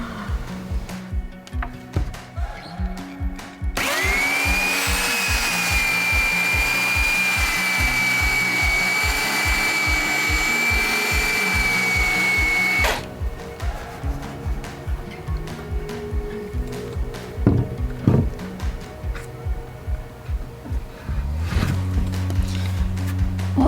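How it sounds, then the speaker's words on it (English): A power sander whines loudly and steadily over glued bench tops for a van build for about nine seconds, alone and up close, between stretches of rhythmic clattering background music. "I'm gonna sand it all back and hopefully come out with some really cool bench tops"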